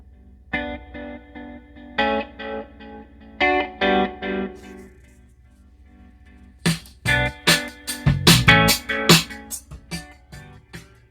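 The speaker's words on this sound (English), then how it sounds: "this is all music I downloaded from YouTube" Copyright-free music plays through upgraded Infinity Reference speakers in a 2020 Ram 1500 cab: distorted, effects-laden synth chords hit in short bursts, then denser punchy percussive beats take over.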